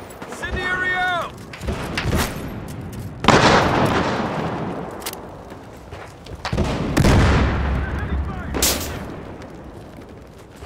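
In the Battlefield Hardline video game, an incendiary grenade goes out amid a chaotic firefight, with repeated sharp gunshots and bursts, a booming blast, and shouted voices over the loud fighting.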